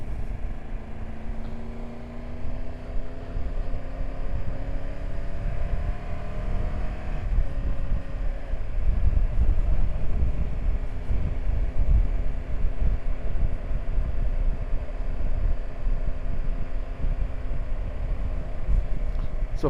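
Wind buffeting a microphone on a high mountain col in the Alps, a steady low roar with gusts and a faint engine hum early on, continuous and fairly loud.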